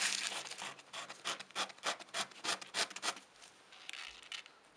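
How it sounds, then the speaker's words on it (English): Sanding a small hobby servo by hand to flatten its surface for a tricopter yaw mechanism: a quick series of about a dozen close, scratchy rubbing strokes in steady rhythm, fading into softer scraping toward the end, with no talk. "A good idea would be to sand the servo a little bit."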